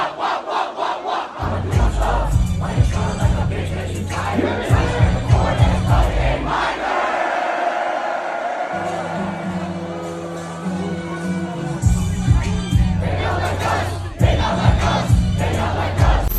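Concert crowd at a show roaring and chanting along to a pounding bass-heavy track, the mass of voices loud and sustained, with the beat dropping out midway while the crowd keeps yelling.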